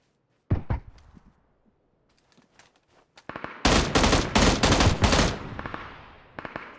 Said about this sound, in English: Nice burst fire from Matty there.